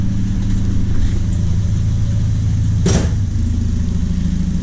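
A Triumph Spitfire engine with a Weber carburettor idles steadily at about 1,000 RPM with a low, even rumble, close and loud; a brief hiss or click cuts through partway.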